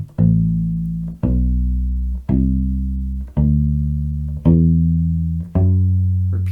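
Bass ukulele playing a major scale up and down, six deep, round plucked notes spaced evenly about a second apart, each sustaining and fading before the next, heard up close with no voice.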